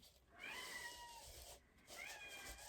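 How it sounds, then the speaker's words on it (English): A kitten meows twice at a door, each call a drawn-out rising-then-falling mew, fairly faint and slightly distant, with a short pause between calls and no talking. "a kitten talking at the door"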